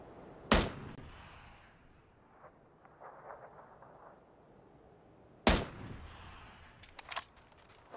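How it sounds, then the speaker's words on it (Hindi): Gunshots in PUBG Battlegrounds, two sharp loud cracks about five seconds apart with a few fainter distant shots after the second, over a quiet rumbling background. "1 220 वाली साइड से फायर की आवाज आ रही"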